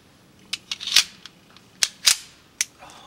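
Pistol shots from a Colt Combat Unit crack out about half a dozen times at irregular intervals, each a sharp, clean report with a brief ringing tail and quiet gaps between.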